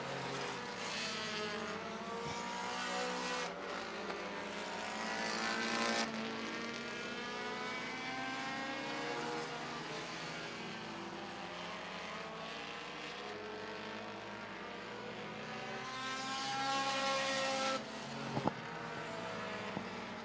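Race cars roar past on the final lap of a race, engine noise steady and loud throughout with pitch sweeping up and down as cars pass, swelling near the end.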